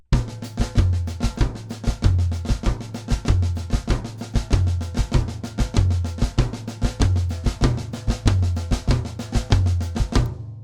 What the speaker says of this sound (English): So we've got the high tom on beat 1 and the floor tom on beat 2.